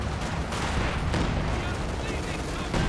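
Artillery barrage in Company of Heroes 2, a loud continuous rumble of overlapping blasts and gunfire for about three seconds with no pause.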